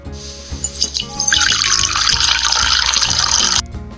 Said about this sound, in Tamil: அந்த பால்காரரும் அந்த பாலை அந்த பாட்டிக்கே ஊத்துனாரு